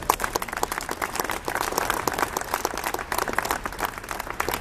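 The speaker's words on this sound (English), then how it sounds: "Let's give ourselves a round of applause." An audience at a dedication ceremony gives a dense, steady round of applause, many hands clapping together loudly and continuously throughout.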